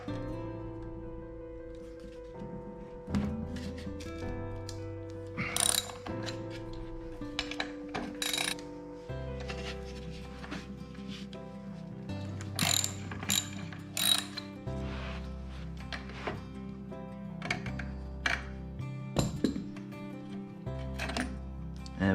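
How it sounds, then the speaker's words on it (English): Ratchet wrench undoing 15mm bolts on a Segway Ninebot Max scooter wheel, a close, steady run of rapid clicking pawl strokes across the whole stretch, with occasional louder metallic knocks and no voices. "we're going to undo 1 bolt there and then 1 bolt on the back there."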